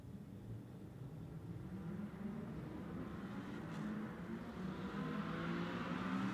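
GT2 race cars at Monza, in a 2021 Fanatec GT2 Series race, pull away after the green flag with a low, steady engine drone that swells gradually, heard faint and fairly distant.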